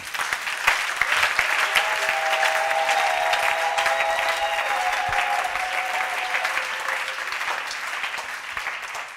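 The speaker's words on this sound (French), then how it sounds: "Est-ce qu'on peut acclamer pour les femmes?" A church congregation applauds for the women, sustained and fairly loud clapping that carries on steadily for around nine seconds and tapers slightly at the end.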